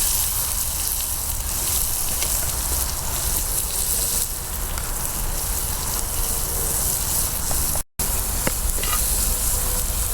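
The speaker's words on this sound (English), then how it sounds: "I just kind of want to keep that simmering." Chopped onions simmer and sizzle in a pot of oxtail stew, a steady broadband frying hiss that stays loud and continuous throughout with a brief dropout near the end.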